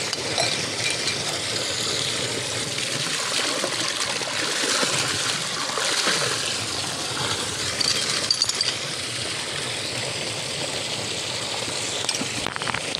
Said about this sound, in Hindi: ठंडा पानी है